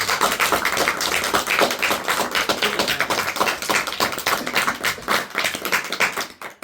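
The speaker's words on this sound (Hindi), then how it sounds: "ताली बजा के प्रभु धन्यवाद करें।" A congregation claps hands in thanks during a Hindi-language prayer gathering, with brisk, lively clapping from many people, close and sustained, and no talk over it.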